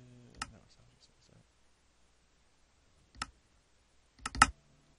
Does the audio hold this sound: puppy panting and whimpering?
no